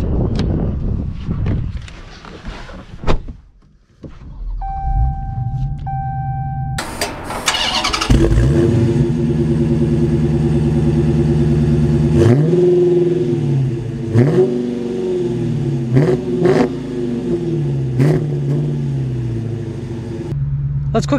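A manual Dodge Challenger Scat Pack 392 Widebody V8 starts up and revs loudly, then settles into a deep rumbling idle and drive with repeated throttle blips and gear changes, close and dominant throughout.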